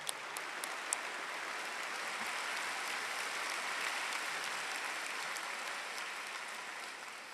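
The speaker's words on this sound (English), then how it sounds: "Would you please join me in a round of applause for them?" Graduation ceremony audience at Auburn University applauding, a soft, distant, even wash of many hands clapping that holds steady throughout.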